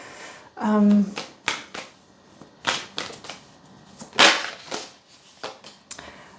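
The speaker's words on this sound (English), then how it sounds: "Let me just reshuffle these." Tarot cards are shuffled in a series of quick, sharp riffles and taps, irregular bursts close by, with a brief voice near the start.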